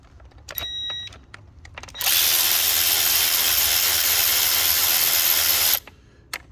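A power driver backs out the coil pack bolts on a 2012 Mercedes-Benz C250 engine: a few light clicks of handling, then one loud, steady high whir lasting several seconds before it cuts off.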